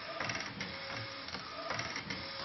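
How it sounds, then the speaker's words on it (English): An Epson R1900 converted into a DIY UV LED DTG printer runs across the full width of the material, giving a steady, close mechanical whir with soft rhythmic clicks of the moving print head. "And you can see it's printing the full width"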